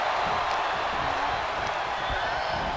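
A steady, roaring arena crowd from the WWE 2K23 wrestling video game holds at an even loud level, a continuous wash of cheering with faint thuds underneath.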